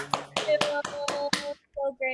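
Several hands clap in a quick run of about six sharp, separate claps from people on an online call, fairly close and clear, then it stops and a brief voice follows.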